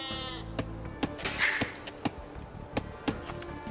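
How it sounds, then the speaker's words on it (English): Sheep bleat repeatedly in the Age of Empires II: Definitive Edition video game on Xbox Series X/S, a string of short, close, evenly spaced calls with nobody talking. "You've found some sheep."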